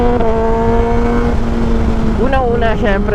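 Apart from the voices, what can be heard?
Kawasaki ZX6R motorcycle with SC Project slip-on exhaust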